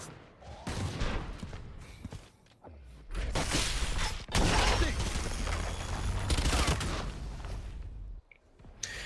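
Rapid bursts of gunfire from SMGs and pistols in a competitive Valorant match, loud clustered volleys with short pauses between them, heard beneath a caster's commentary.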